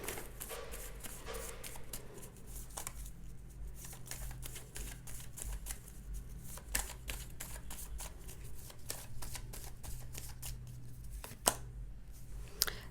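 Tarot cards shuffled continuously for about thirteen seconds, giving a steady papery riffling texture with brief louder slaps near the end, close by at low level over a faint background hum.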